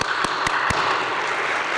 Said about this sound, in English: I'll applaud them again.